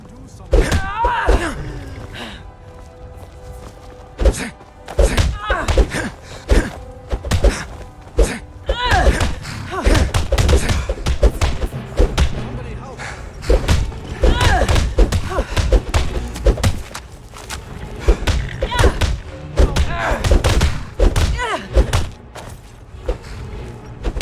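Bare-knuckle fistfight in Skyrim, a long string of heavy thuds and smacking punches landing in irregular bursts, with grunting and talk heard between the blows.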